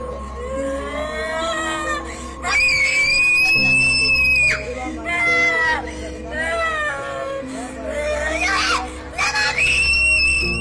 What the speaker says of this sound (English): she continues to scream wildly